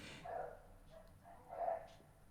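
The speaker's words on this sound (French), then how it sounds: "j'avais pas entendu que c'était un chien qui aboyait, ça faisait un bruit bizarre." Dog barking in two short, odd-sounding bursts with a strange voice-like tone, fairly faint and a little distant, with no talk over it.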